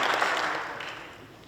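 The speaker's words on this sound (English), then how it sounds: "Give yourselves a round of applause." A seminar audience gives itself a round of applause, a brief wash of many hands clapping together that fades gradually over its short span.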